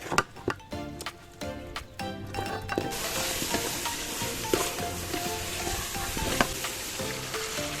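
Precooked mutton fries in onion-tomato masala for Rawther mutton biryani, opening with sharp stirring scrapes and clicks before a loud, steady sizzle takes over and continues with occasional spoon knocks.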